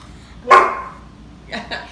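A pet dog barks once loudly and close indoors, then gives two softer, quicker yips, with someone talking around it.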